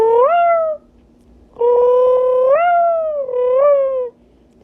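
A human voice imitates a cat's meow in three drawn-out, wavering calls with pauses between, fairly loud and close, with a slight rough throaty purr-like edge.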